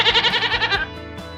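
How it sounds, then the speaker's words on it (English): A goat gives one loud, close bleat, a quavering, pulsing cry lasting under a second, followed by a brief quiet tail. "Goats say bleat."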